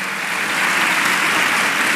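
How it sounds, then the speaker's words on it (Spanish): A crowd applauds steadily at a charity awards ceremony in Cartagena, a dense, even wash of clapping holding at a constant level for the whole stretch. "muchísimas gracias a doña Laura Juguera, la despedimos con ese fuerte aplauso"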